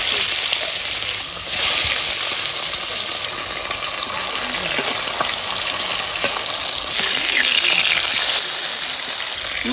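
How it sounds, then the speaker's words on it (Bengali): Pomfret fish sizzle and fry loudly in hot oil in a wok, a continuous dense crackling hiss that persists close-up throughout with a faint voice now and then. "এবার আমি তেলটা দিয়ে দিচ্ছি। এবার আমি মাছগুলো ছেড়ে দিচ্ছি।"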